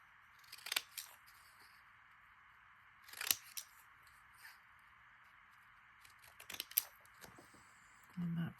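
Scissors snip paper for Christmas ATC cards in a few scattered, crisp cuts, some in quick pairs, over a quiet steady background hiss.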